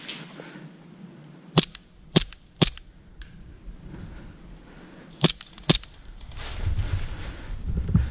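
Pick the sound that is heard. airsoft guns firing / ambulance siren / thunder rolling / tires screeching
airsoft guns firing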